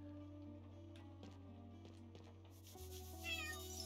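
Cat meowing in Chained Echoes, a couple of short meows over soft background game music, fairly quiet.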